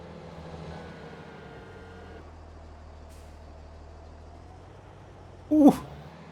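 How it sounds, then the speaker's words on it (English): A train in Farming Simulator 22 passes with a steady low mechanical rumble throughout, broken near the end by a short, loud hissing burst like a brake release. "I just missed that train, didn't I?"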